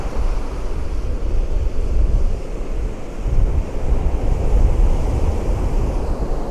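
Ocean waves wash and break continuously on a shore, a loud steady roar with surging swells and wind buffeting the microphone, no voices.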